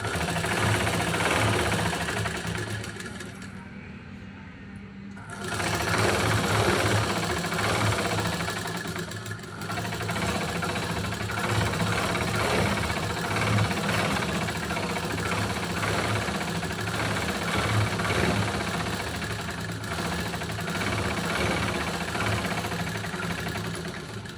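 A sewing machine stitches a saree petticoat with a steady mechanical whir and rapid needle chatter, pausing briefly after a few seconds and then running on continuously.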